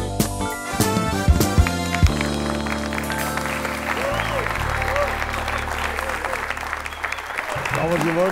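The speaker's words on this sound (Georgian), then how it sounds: "აპლოდისმენტები მეგობრებო." Studio audience applause on a Georgian late-night talk show, a steady wash of clapping lasting throughout, with music tones and a voice layered over it.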